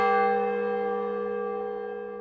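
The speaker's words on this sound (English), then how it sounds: "Hidalgo ringing the bell at his Dolores church." A church bell in Dolores strikes once, loud and clear, its ringing tone slowly fading over a couple of seconds with no other sound.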